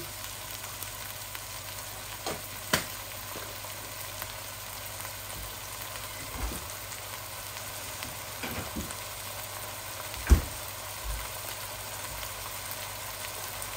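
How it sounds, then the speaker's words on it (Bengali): Homemade ginger-garlic paste fries in a pan for a duck meat curry, a low, steady sizzle with occasional knocks of a utensil against the pan and no talk. "এই যে আমি একসাথে দিয়ে দিচ্ছি আদা রসুনও।"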